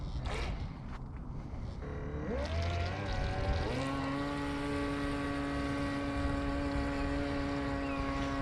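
A Force1 Velocity RC speedboat's electric motor spins up after a few seconds of splashing, then holds a steady, loud high-pitched whine with rising tone as it runs across the water, no voices.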